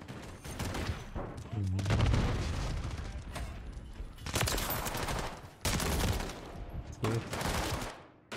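Rapid bursts of gunfire from a first-person shooter game on the Shipment map, loud and dense, with repeated volleys and short gaps between them.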